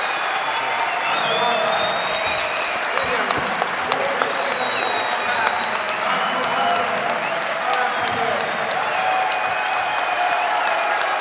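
Sustained audience applause for panel speakers at a Modern Monetary Theory summit afternoon session, a dense steady wash of many hands clapping throughout, with faint voices mixed in.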